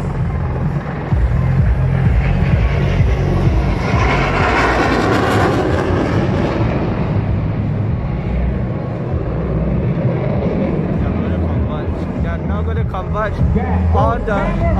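Military aircraft, including helicopters such as an Apache, fly past together at the Singapore Airshow 2020, making a loud sustained engine roar that swells and fades across the whole stretch, with a commentator talking over it.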